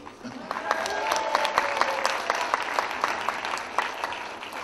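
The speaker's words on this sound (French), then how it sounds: "Donc je crois qu'on peut déjà applaudir Clovis Cornillac" Cinema audience applauding the actor at a film screening in Lattes, a dense, lively burst of clapping with sharp individual claps standing out, rising and holding steady with some voices underneath.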